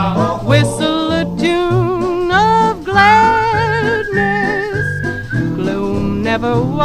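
Melodic whistling in a song, a bright wavering tune carried over a full band accompaniment, prominent and continuous through the passage.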